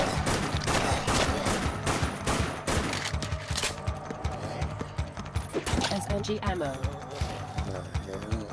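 Submachine gun fire in the zombie shooter Dead Nation, rapid continuous bursts of loud shots with mechanical clatter, carried on over a steady background of game sound.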